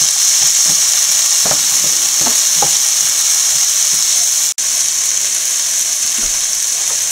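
Chopped tomatoes sautéing in a pan with onion, green chili, ginger and garlic for a shrimp biryani, a loud steady sizzle with repeated stirring scrapes and taps, one brief dropout midway, no speech.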